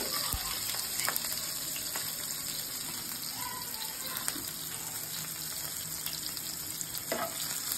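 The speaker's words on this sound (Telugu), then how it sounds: "ఇప్పుడు చిల్లీస్ వేసుకోవాలి." Chillies frying in a pan for a paneer and cashew dish give a steady, dense sizzle throughout, with occasional faint clicks and stirring sounds on top.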